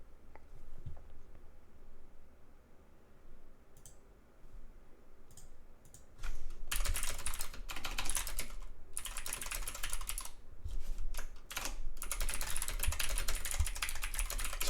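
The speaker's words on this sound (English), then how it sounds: "Sorry, I'm typing." Typing on a computer keyboard during a gaming stream: a few scattered soft key taps at first, then fast, close, continuous clacking bursts with brief pauses between them.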